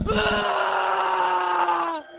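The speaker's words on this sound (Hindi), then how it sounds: "तभी गोपी की चीखने की आवाज आती है।" A man lets out a long, loud scream in a dramatized horror story, a sustained, strained cry held for about two seconds before cutting off abruptly.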